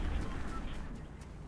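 Distant gunfire in the video game Fortnite, a dull continuous rumble of shots and low booms that stays under a steady broadband wash for the whole short stretch, with no clear individual reports standing out.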